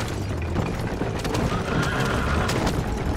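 Horses gallop in a loud, steady drumming of hooves with whinnies in Red Dead Redemption on Xbox 360, over a dense rush of game noise and no clear talk.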